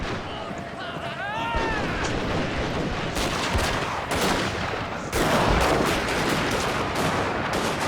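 Massed musket volleys from troops in the Shogun II Total War battle, Nagaoka against Satsuma, crackling in dense repeated bursts with sharp volleys near 3, 4 and 5 seconds, mixed with battle noise and a few whistling tones early on.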